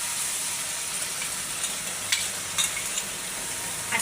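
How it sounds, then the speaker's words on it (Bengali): Spice paste frying with onions in a pan, a soft continuous sizzle with faint hiss and a few brief scraping stirs, fairly quiet and without any voices. "এখন বাটা মশলাগুলো দিয়ে দেবো।"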